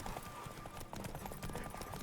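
Horse hooves galloping during a horse race in The Witcher 3, a quick rapid clip-clop of running hooves under a rush of air and game noise, fairly faint and steady throughout.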